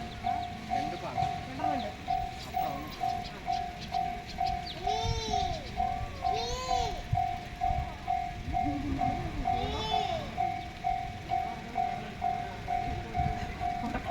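A train approaches a railway crossing in Japan while the crossing bell dings rapidly and steadily. Pigeons coo nearby and rail wagons rumble underneath, with people talking.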